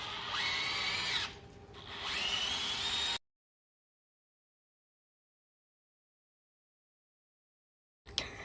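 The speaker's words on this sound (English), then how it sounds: "now we're about to take the bolt off and unspring the whatever" A power tool, likely an impact wrench or drill, whirs loudly and steadily up close as it removes a bolt from a Honda Civic's suspension, runs in two bursts with a short dip between them, then stops into silence.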